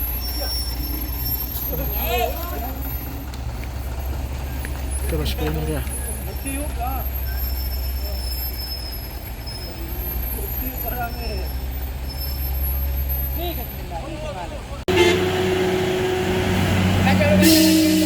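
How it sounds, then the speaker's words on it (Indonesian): A heavy diesel tanker truck engine rumbles steadily and deeply throughout while towing another truck on a steep incline, with a man calling out over it and a brief hiss near the end. "ini dia truk tangki yang akan menarik truk diesel"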